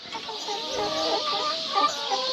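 Chickens clucking steadily in a backyard chicken yard beside a new coop, several hens calling close by in overlapping murmurs with no talk.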